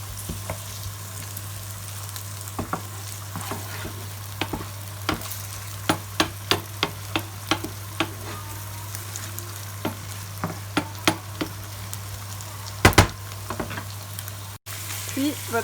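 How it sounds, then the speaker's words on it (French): Bell peppers with onions sizzle in a Thermomix for Turkish gözleme, giving a quiet crackle with scattered sharp pops and clicks over a steady low hum. "Vous y rajoutez vos poivrons."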